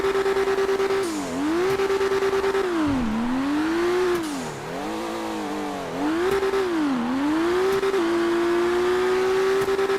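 A V12 car engine in the GTA video game revs up and down repeatedly, a loud steady roar rising and dipping in pitch through several shifts before settling into a sustained high drone.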